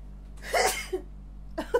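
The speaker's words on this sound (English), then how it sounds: "I'm gonna sneeze, you guys, I can feel it coming." A single close, sharp sneeze burst followed by a shorter second exhalation.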